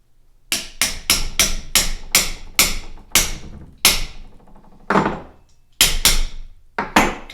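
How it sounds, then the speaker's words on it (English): Light hammer taps tightening the barrel nut on a RIA TM-22 rifle, about ten sharp close strikes in an uneven rhythm, with brief pauses between small clusters. "So it's going to need a few little taps."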